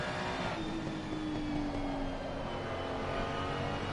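Ferrari 296 GT3 race car engine in Assetto Corsa Competizione at the Hungary circuit, a steady high-pitched drone with a rising whine through a corner, continuous and moderately loud with no talk.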